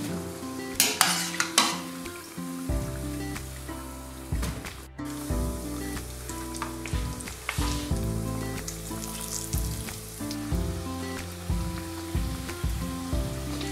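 Carnival fritters (beignets) frying in hot oil, a steady close sizzle with occasional clinks and stirring sounds from a utensil in the pan.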